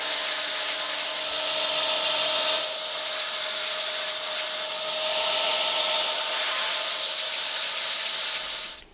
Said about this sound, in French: on va planer les plaquettes